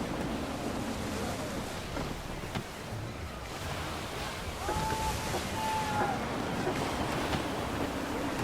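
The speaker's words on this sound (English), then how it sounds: "Gusty winds can be difficult to manage." Gusty wind sweeping over open water in Assassin's Creed 3, a broad, steady rushing roar with surf-like surges and faint creaks, loud and continuous with no voices.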